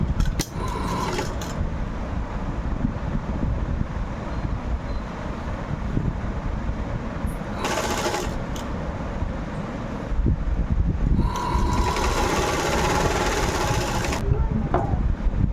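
A sewing machine stitches gathered frills for a child's frock in a loud, steady mechanical whir, close by, with short pauses near the middle and end, no talk.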